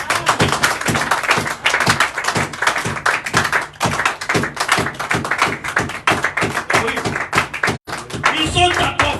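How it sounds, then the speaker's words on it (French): Church congregation at Shalom Tabernacle clapping hard and rhythmically in a steady beat, dense loud claps with cheering voices mixed in during a Friday worship service. "Acclamons très fort pour la gloire."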